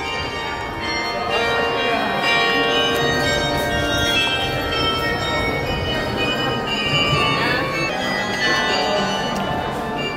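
Barcelona Cathedral bells ring out in a dense, overlapping clang with layered tones, loud and continuous, under a wash of background noise.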